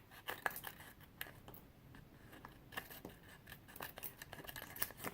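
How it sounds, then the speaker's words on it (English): Paper scissors trim along the edge of a paper quilting piece, making a quiet series of crisp, irregular snips close by with no talking. "I'm just going to take paper scissors and go along the edge."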